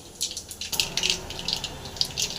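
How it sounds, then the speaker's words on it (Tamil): Mustard seeds sputter in hot oil in a pan as tempering for a cabbage dish, with sharp crackling pops in quick irregular bursts over a faint sizzle, close by and with no voices. "எண்ணெய் ஊற்றியாச்சு கடுகு போட்டாச்சு கடுகு தாளிச்சிடலாம்"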